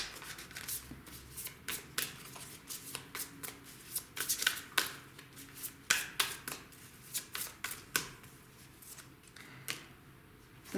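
Tarot cards being shuffled by hand, a long series of quick, papery riffles and soft slaps repeating in uneven bursts, close and fairly quiet.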